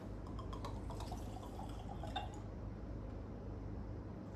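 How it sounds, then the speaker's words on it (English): Premium rye whiskey is poured generously into a tasting glass at a St. Louis distillery, a soft close liquid trickle with a few small drips and glassy clinks, with no talk. "Kind of the heavy pour there for a tasting."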